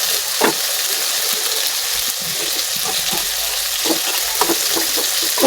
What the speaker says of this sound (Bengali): পেঁয়াজের লগে চাপা দিয়ে একসাথে বাজাই দিলাম